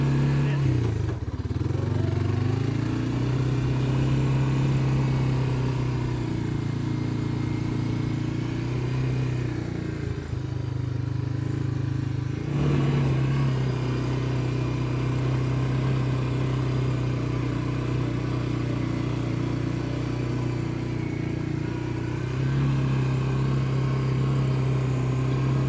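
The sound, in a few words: Honda Fourtrax ATV engine running while shifting and driving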